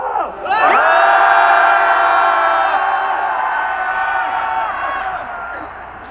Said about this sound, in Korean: 박근혜가 들을 수 있도록 다시 한번 함성 시작.